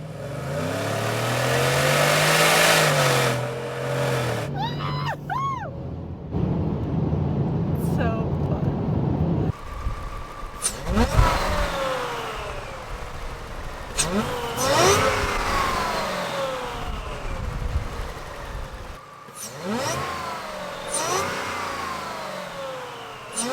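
A loud 2025 Ford F-150 engine with a Whipple Stage 1 supercharger, about 725 hp, revs repeatedly, roaring up and dropping back with a supercharger whine, close by, with occasional voices underneath.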